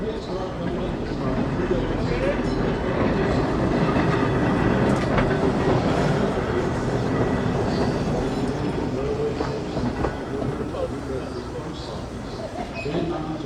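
A historic trolley car rolls past at a trolley museum, its steady heavy rumble and rhythmic clickety-clack of wheels on rail filling the scene at close range, with faint voices in the background.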